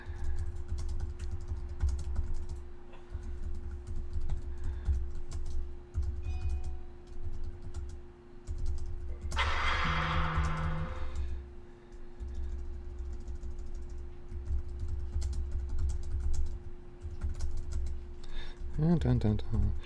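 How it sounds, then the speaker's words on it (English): A computer keyboard clicks in quick, irregular bursts of keystrokes for about twenty seconds over a low steady hum, with a voice speaking at times. "Sorry, I'm typing."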